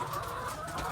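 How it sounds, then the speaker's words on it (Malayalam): Country chickens cluck softly in a short, continuous murmur of overlapping calls at a farm, fairly faint with no talking. "ഇത് നാടൻ കോഴികളാണ് നിറച്ചും."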